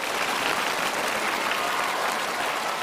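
Studio audience applauding contestant Wanqing on a televised Chinese-language competition, a dense, steady wash of clapping that stays loud and even throughout with no talk over it.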